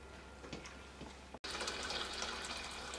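Flan custard of egg, milk and sugar being poured into a mold lined with hardened caramel: a steady, soft liquid pour with a brief break partway through, faint and with no talk.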